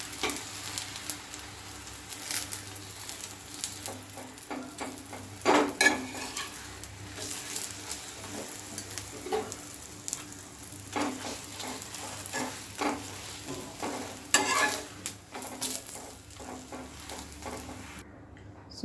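An aloo paratha fries with a little oil on a hot pan, a steady close sizzle broken by scraping and flipping clatters from a spatula, with no voices.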